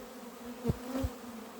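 A steady, low buzzing hum of many honey bees at an apiary, fairly quiet and close, with a couple of brief louder swells as individual bees pass nearby.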